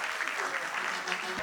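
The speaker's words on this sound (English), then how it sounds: "I believe they deserve a louder round of applause" An awards-show audience applauds honourees receiving certificates of recognition, a continuous dense clapping texture at moderate loudness from start to finish.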